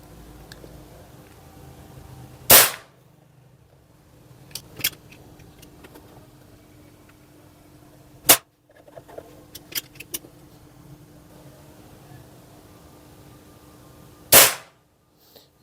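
A Nova Vista Cobra PCP air pistol fires three crisp, sharp shots at several-second intervals, with small clicks and handling noises between them and no talking.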